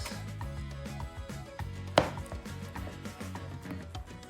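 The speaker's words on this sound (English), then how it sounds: "And then, you cut some slices." A knife slices a ripe, soft, sweet plantain into pieces for Puerto Rican–style fried amarillos, giving soft, close cuts with one sharper knock against the board midway, all over quiet background music.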